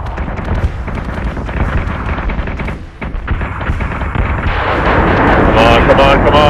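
Heavy cannon fire booms from warships in the space battle game Battlestar Galactica Deadlock. Loud, dense volleys roll one over another, and a voice briefly comes through the barrage while a rising rumble swells toward the end.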